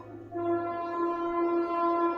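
An Indian Railways train sounds a long, steady horn blast with rich harmonic tones, loud and sustained over a low rumble, without talk.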